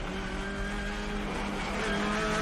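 TCR touring race cars run hard at a circuit as cars go off track, with sustained engine whine and tire noise at a distance, steady and moderately loud.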